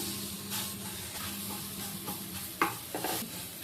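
Crushed garlic and curry leaves hit hot oil for a spicy brinjal masala, giving a steady close sizzle with light stirring scrapes and a sharper spitting burst near the end, no voices.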